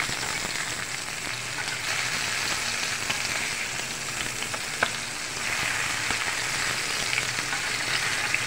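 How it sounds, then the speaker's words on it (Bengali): Fresh fish fries in hot oil, giving a continuous dense sizzle at an even level with scattered small crackles and pops. "এক পিঠ ভাজা হয়ে গেছে।"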